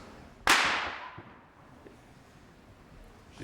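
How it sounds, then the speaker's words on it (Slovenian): A single sharp, loud sniper rifle shot cracks out once and decays, an accidental police sniper discharge during an outdoor speech, followed by quiet ambience. "Ta pok je bil strel iz ostrostrelske puške."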